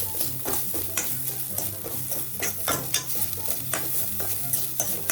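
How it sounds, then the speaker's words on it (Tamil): Grated coconut is roasted in ghee while being stirred, with repeated scraping strokes over a soft sizzle, close and steady with no voices. "நல்லா நெய் விட்டு இந்த மாதிரி தேங்காய் துருவலை நல்லா வறுக்கலாம்"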